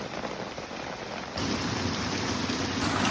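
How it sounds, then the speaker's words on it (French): Heavy rain pours down steadily in Japan, a dense, hissing wash of drops that grows noticeably louder partway through and stays constant, with no voices. "on attend parce qu'il pleut vraiment beaucoup"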